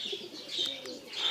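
Pigeons coo softly and repeatedly in a village bird enclosure, a close, continuous murmur of low throaty calls with a few brighter chirps mixed in, and no talking.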